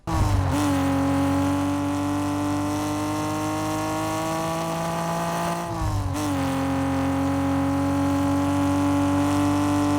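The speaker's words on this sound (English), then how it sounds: "the engine sound is exactly what you expect to come out of an actual R32" A Nissan R32 engine in the Fortnite video game holds a steady, loud drone with strong layered tones, dips briefly near the end, then settles back into the same even hum.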